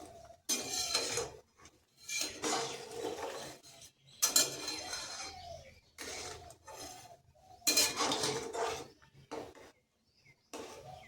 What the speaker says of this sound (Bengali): হালকা করে একটু নেড়ে চেড়ে দেবো।